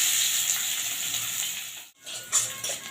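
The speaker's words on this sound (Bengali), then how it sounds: "এবারে দিয়ে দিচ্ছি পেঁয়াজ কুচনো।" Chopped onions hit hot spiced oil in a pan, a bright steady sizzle that briefly drops out as they are stirred, then swells again with crackling spits.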